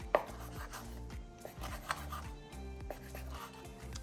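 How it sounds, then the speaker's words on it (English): A knife chops razor clams on a cutting board in irregular taps, quiet and close, with soft scraping between strokes. "now I'm gonna go ahead and start chopping up my razor clams"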